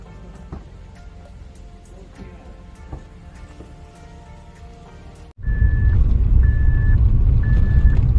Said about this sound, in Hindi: नाल इत्थे ट्रैक्टर खड़ा कर रहे हैं।